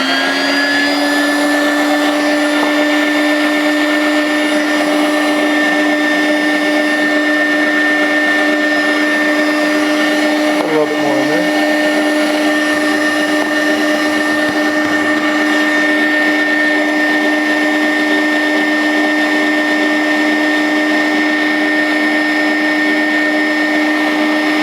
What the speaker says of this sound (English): You can adjust this anytime during the milling process, and it's very easy to do.